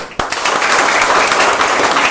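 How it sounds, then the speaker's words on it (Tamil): A group of children and adults clap together at a family study-support gathering, a brief sharp hand clap followed by steady, fairly loud applause that carries on to the end. "கைதட்டுங்க."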